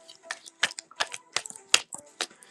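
Baseball trading cards from a Heritage hobby box being shuffled by hand, a run of quick, crisp flicks and snaps in uneven bursts, close and fairly clear.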